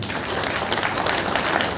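An audience at a press conference in the Constitution Club claps in a dense, even burst of applause that holds at a steady level for the whole short stretch.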